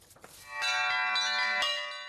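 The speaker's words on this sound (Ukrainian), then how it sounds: "Видзвонюють дзвони у столичному гідропарку." Church bells ring out at an outdoor Epiphany blessing in a Kyiv riverside park, a struck bell sounding with a long shimmering ring, then a second strike renewing it, heard at moderate distance.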